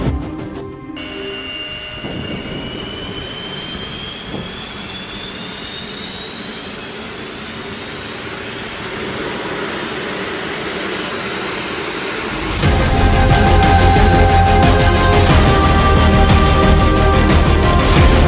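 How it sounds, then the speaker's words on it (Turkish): First start-up of the Kızılelma jet engine, a rising turbine whine that climbs steadily in pitch before a loud, broad roar takes over as the engine lights and runs, heard close and continuous. "Motor çalıştırma için serbest."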